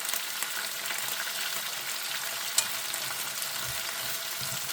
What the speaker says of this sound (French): tu vas mettre grand feu, les faire sauter comme ça